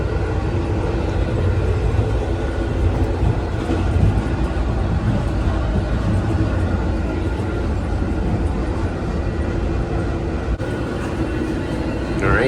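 VIA Rail Renaissance passenger cars rolling between Montreal and Ottawa give a steady, loud rumble with rattling and rhythmic wheel clatter throughout, heard from inside the car with no talk.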